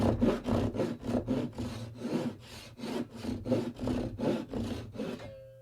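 Hand saw cutting a curve through wood on a fabric rack project: about a dozen close, rhythmic rasping strokes at an even pace, ending in a brief quiet tail.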